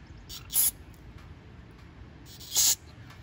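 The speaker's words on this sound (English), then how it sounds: "Then I take my carb spray" Carburetor cleaner sprays through the jets of a Lawn-Boy mower carburetor in two short sharp hissing bursts about two seconds apart, close and alone over a quiet background.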